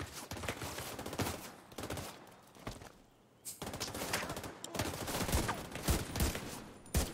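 Rapid bursts of automatic gunfire in The Division rattle in dense volleys, pausing briefly mid-way before resuming, with sustained firefights that sound somewhat distant and muffled.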